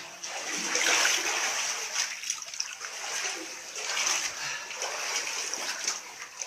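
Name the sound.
water being poured and splashing in a cave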